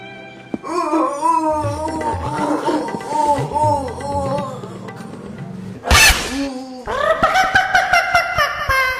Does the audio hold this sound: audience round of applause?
no